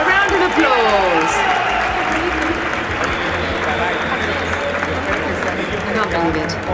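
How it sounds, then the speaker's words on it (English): Applause from a live crowd at a crypto metaverse day event, a steady wash of clapping with cheers, sustained for several seconds, with a voice talking over it. "A round of applause."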